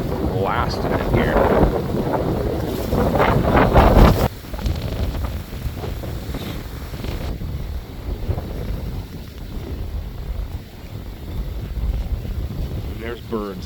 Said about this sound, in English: I'm sure the audio is terrible right now with all this wind, but it is super windy.